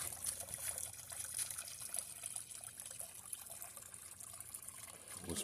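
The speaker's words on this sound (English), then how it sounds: "And the waterfall is doing very, very well over here." A small waterfall in a backyard pond trickles and splashes steadily, a soft continuous flow of falling water heard alone at low volume.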